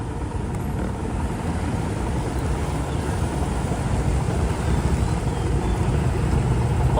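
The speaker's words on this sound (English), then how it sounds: "the motorbike noise, which I enjoy" Motorbike engine during a rainy-day seashore ride in Phuket, Thailand, a dense continuous rumble mixed with wind and road noise, loud and steady with no talk.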